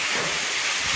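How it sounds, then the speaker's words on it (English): Continuous bright hissing crackle, steady and close, of bacon frying in a hot pan. "let the bacon sizzle to a nice brownish, not crispy texture"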